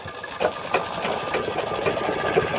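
A sewing machine runs steadily and close up, stitching the folded edges all around a mat made from cement sacks, with a continuous whirring drone and no talk.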